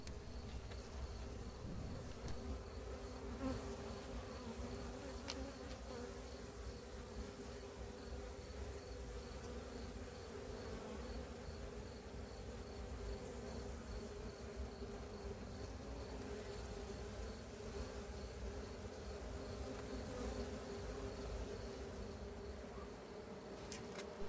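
Dense, steady buzzing of a honeybee swarm fills the whole stretch, a continuous droning hum with no voices, close and constant throughout.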